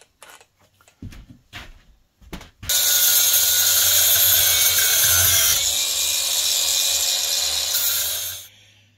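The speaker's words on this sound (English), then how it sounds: "This is the angle grinder with a flap wheel." Angle grinder fitted with a flap wheel, squaring off and sharpening a metal edge. A few knocks come first, then a loud, steady high-pitched whine that holds for several seconds before spinning down.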